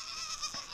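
A single short goat bleat sounds on a homestead where goats graze brush inside a chicken-netting fence, the call thin and nasal over faint outdoor background.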